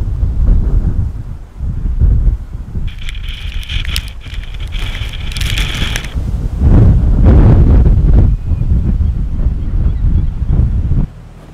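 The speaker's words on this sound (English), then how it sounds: "with winds up to hurricane force at 90 knots, sending huge waves from the North Sea to crash violently into our coastline" Hurricane-force wind roars and buffets the microphone while heavy North Sea waves crash against the coast, with loud surging booms rising and falling over about ten seconds.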